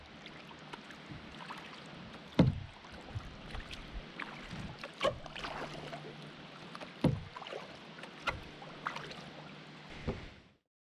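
Quiet paddle strokes from a canoe or kayak on calm water, soft splashes and drips spaced every few seconds over a low steady outdoor hush.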